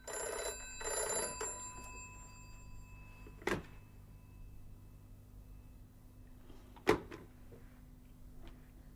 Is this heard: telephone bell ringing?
yes